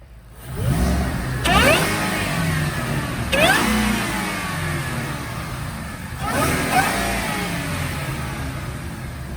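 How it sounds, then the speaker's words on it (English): Roush-supercharged 2011 Mustang on a chassis dyno, engine revving hard in repeated pulls with rising whine and roar, loud and close, each surge climbing then easing back. "We're gonna do a dyno pull."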